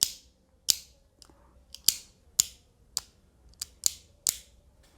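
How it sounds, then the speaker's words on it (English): Sharp plastic clicks as parts of an Ultimate Valkyrie Beyblade are twisted tight, about nine crisp snaps spaced roughly half a second apart, close and distinct against near silence. "Every click is pretty tight."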